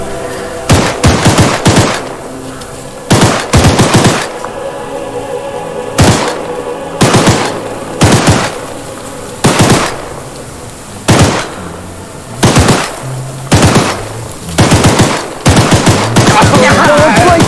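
Repeated loud bursts of gunfire in the video game Choo Choo Charles, with rapid volleys of shots coming in irregular clusters separated by short pauses.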